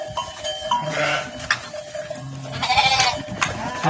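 Several unshorn sheep bleat close by in overlapping calls, with a few low voices faintly mixed in.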